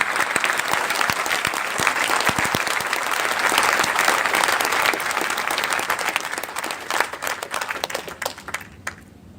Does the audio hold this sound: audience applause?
yes